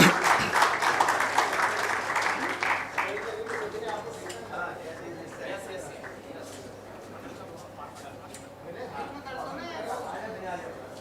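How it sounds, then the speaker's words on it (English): Audience applause at a medical conference awards ceremony, a Lifetime Achievement Award presentation: a dense burst of clapping that is loudest at the start, then thins into scattered claps with crowd chatter and voices underneath. "Please give him a big round of applause."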